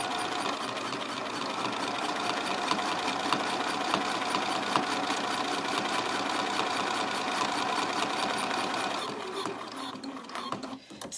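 A sewing machine stitches fabric scraps in a steady, fast mechanical whir with dense rhythmic clatter, loud and close, easing off and going quiet near the end.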